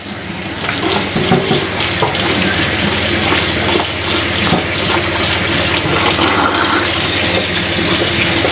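Steady running tap water splashes over the ends of a paint roller as they are washed in a sink, a continuous close hiss and patter with no talk.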